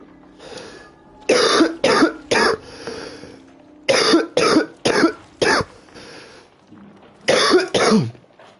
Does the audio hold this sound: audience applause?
no